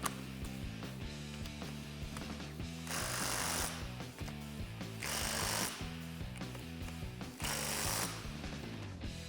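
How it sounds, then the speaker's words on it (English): Impact gun hammering bolts tight on a Ford F-150 strut during a leveling kit install, three loud rattling bursts spaced a couple of seconds apart over a steady hum of background music. "Grab an impact gun and tighten them down."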